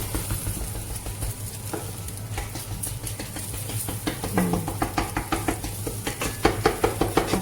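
Egg is crushed and stirred fast in a hot frying pan for fried rice, with a steady sizzle under rapid, rhythmic spatula scrapes and taps that quicken toward the end, close and fairly loud.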